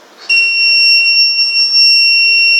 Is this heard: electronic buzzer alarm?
yes